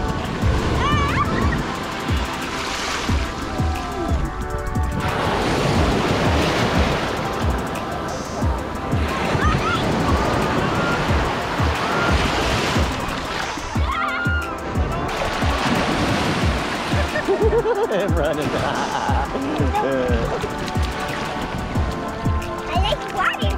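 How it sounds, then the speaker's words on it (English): Ocean surf breaking on Sandbridge Beach in Virginia Beach, a steady broadband wash of waves rolling in with recurring louder crashes, with people talking nearby throughout. "Look at that wave."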